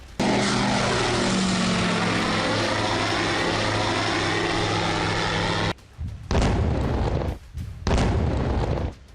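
Russian attack drone flying over Ukraine: a loud, steady propeller-engine drone with a droning harmonic buzz for about six seconds, then cutting into rougher, broken bursts of noise.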